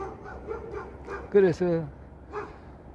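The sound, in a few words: dog barking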